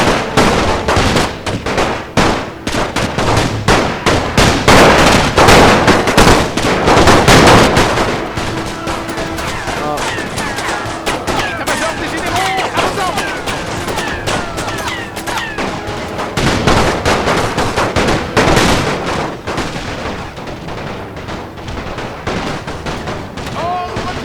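Heavy, sustained gunfire from house windows in a World War II battle game set around Stuttgart, France, with loud rapid bursts and overlapping shots, dense at first and then continuing in steady volleys with distant explosions.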